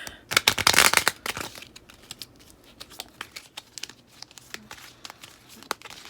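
A deck of cards is shuffled by hand, with a loud burst of riffling and crinkling at first, followed by scattered soft flicks and taps as the cards separate.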